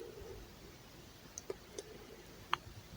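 A few faint, sharp computer mouse clicks, soft and close, scattered over a quiet background.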